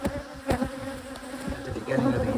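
Honeybees buzz close by during a hive inspection, a steady droning hum with individual bees swelling louder as they pass near.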